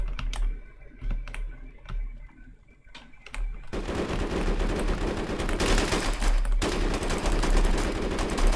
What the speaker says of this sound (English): I don't even think they realized I shot at them then.